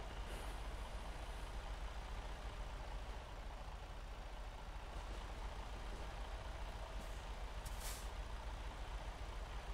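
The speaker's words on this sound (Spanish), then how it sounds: "Qué bien se escucha el freno" Air brakes on a 2020 Freightliner Cascadia truck of US Xpress hiss amid a steady, loud idling diesel rumble, with a brief sharp release burst near the end.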